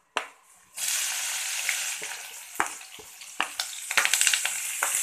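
Green chilies drop into hot oil already holding chana dal for a cabbage curry, setting off a loud, close, continuous sizzle with scattered crackles and stirring clicks, no voices.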